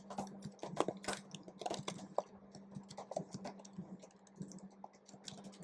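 Typing on a computer keyboard while entering text into merged cells in an Excel spreadsheet: soft, irregular key clicks in uneven bursts, close but faint over a low steady hum, with no talk.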